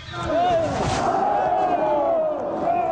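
A crowd of demonstrators outside a state radio and television headquarters roars and cheers loudly, a sustained mass of voices with rising shouts swelling near the start and carrying on steadily.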